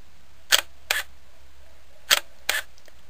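Two DSLR camera shutter firings at a slow 1/10th speed, each a close, crisp pair of clicks as the mirror flips up and drops back, with a short gap inside each pair and a quiet room between them.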